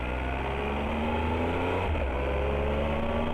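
A Triumph Tiger 1200 XRT motorcycle pulling away and accelerating, its engine note climbing steadily and heard up close and continuously, with no talk over it.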